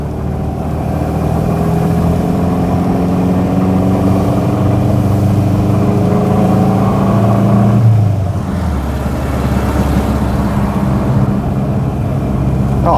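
A Subaru Brumby ute engine drones steadily while driving, its mid-range hum rising in pitch then dropping and settling lower after a gear change, loud and continuous with no talking.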